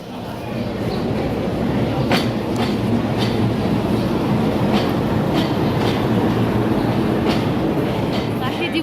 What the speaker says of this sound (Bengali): এটা হচ্ছে লোকাল ট্রেন।